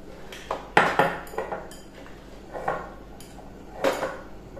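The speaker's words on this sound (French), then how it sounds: "Mélanger la farine et les œufs." Flour and eggs are mixed in a bowl, a utensil clinking and scraping against the sides in irregular, moderately close taps and strokes with no talk.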